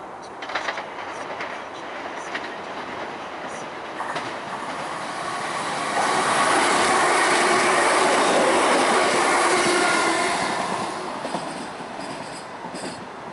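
A freight train races through Bescot Stadium station without stopping, a broad rushing roar that swells in the middle and fades, steady rail noise without talk.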